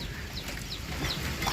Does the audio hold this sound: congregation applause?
no